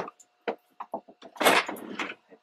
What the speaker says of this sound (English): If I can get my drawer open.